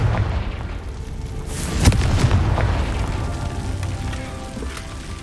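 Confringo fire spell blasts in the Hogwarts Legacy video game: a sharp booming explosion near two seconds, then a sustained rumbling roar with crackling debris, loud and close, with no talk.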